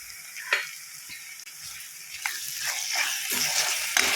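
Bitter gourd shallow frying in oil with ginger-garlic paste, a steady soft sizzle with a few brief spatters and clinks, growing slightly louder toward the end with no talking.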